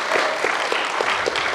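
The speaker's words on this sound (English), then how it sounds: "Let's give them a round of applause." Audience applause in a church service, steady, moderately loud clapping filling a hall, continuous throughout, with no voices over it.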